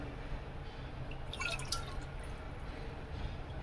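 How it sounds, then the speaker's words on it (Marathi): Water poured into a bowl of curd for a sweet-and-sour Gujarati kadhi, heard as a brief trickle and splash in the middle over a steady low background hiss, with no talk. "त्यामध्ये आपल्याला इथे आता पाणी टाकून घ्यायचं आहे"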